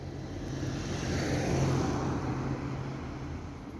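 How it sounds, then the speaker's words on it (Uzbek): A car passes close by on a street, its engine rumble swelling to a peak midway and then fading, alone and without voices. "Hozir bitta mashina yonida."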